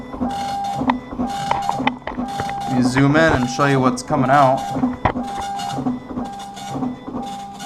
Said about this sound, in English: So it's printing.